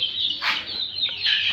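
Laying hens in a poultry shed give close, high-pitched clucks and squawks in two short bursts, loud and alone without talking.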